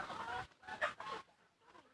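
Domestic free-range chickens clucking near a termite-bait pit, several short soft bursts of clucks in a loose rhythm, faint and close, with no talking.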